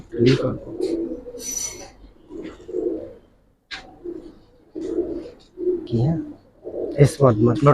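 Two domestic pigeons, a breeding pair with young, give repeated deep, rolling coos in short bursts close by, separated by brief gaps.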